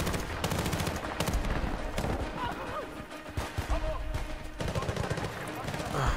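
Heavy .50 cal machine gun in Battlefield: Bad Company 2 hammering out continuous bursts of automatic fire, dense and loud throughout, with other gunshots in a chaotic battle and players' voices talking over it.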